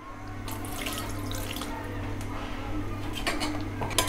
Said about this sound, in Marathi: त्या पाणी घालतोय.